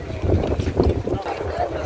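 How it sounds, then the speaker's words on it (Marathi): A fishing boat pulls in at a beach with a low, churning engine rumble up close, mixed with gusty wind buffeting the microphone, while someone talks over it. "बोट आलेले आहे मित्रांनो"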